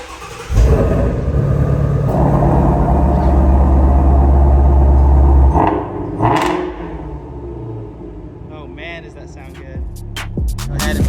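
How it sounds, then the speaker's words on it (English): A 2018 Ford Mustang Shelby GT350 V8 cranks and fires inside a shop, settling into a loud, steady rumbling idle, then dropping as the car pulls out, with quieter sounds and a few sharp clicks and knocks at the end. "We're gonna go ahead and crank over the GT350 and pull it out of the shop."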